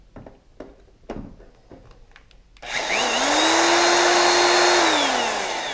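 A few clicks and handling knocks, then a Black & Decker power tool plugged into a portable power station whirs up to a loud, steady high-pitched drone and starts to wind down near the end.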